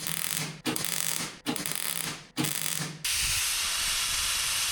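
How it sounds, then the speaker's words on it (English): Short bursts of MIG-style welding laying small blobs onto a steel rose's stem for thorns, three crackling hisses separated by brief pauses, then a steady, loud continuous hiss, close and with no talking. "So I weld small blobs of weld and then I grind them into a point."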